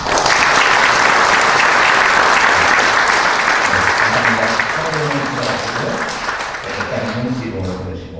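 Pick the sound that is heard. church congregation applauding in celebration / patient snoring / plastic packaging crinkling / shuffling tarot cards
church congregation applauding in celebration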